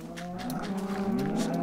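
A cow on a Minecraft farm gives one long, low, drawn-out moo, loud and close, with no other sound around it.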